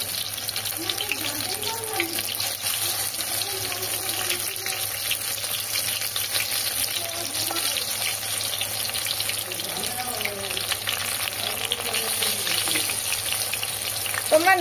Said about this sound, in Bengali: দেখো এক এক করে বড়াগুলো তেলের উপরে দিয়ে দিচ্ছি।